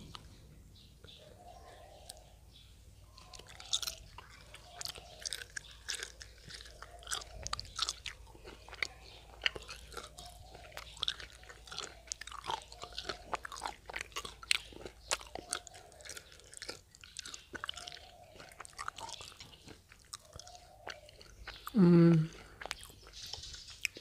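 Dried durian is chewed and bitten close to the mic, giving soft, crisp crunches repeated in a steady rhythm over a quiet background, with a brief louder burst near the end.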